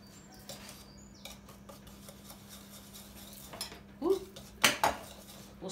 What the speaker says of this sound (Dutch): Gaan we het eerst even mengen.